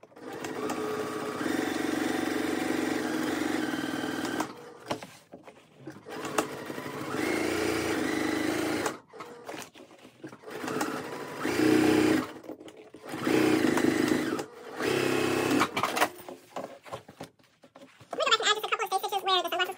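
A sewing machine stitches a tote bag in repeated runs of close, buzzing motor hum, each several seconds long and separated by brief pauses, with a quick rattling burst at the end.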